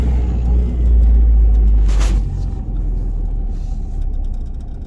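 A manual-transmission car pulls away on a hill. A steady, loud low engine rumble rises as throttle is applied, with a brief hissing burst midway and a continuous drone inside the cabin. No one speaks.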